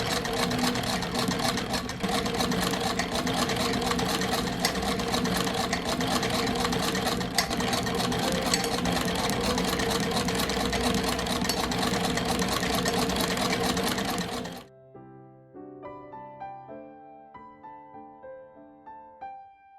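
A sewing machine stitches the centre back and side seams of a late Victorian 1895-style waistcoat in wool and lining, running as a loud, steady mechanical whir for about fifteen seconds before stopping.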